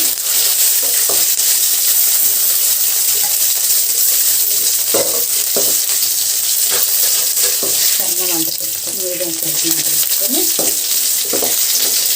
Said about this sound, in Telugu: నీళ్ళు పెట్టి వేయించేస్తాను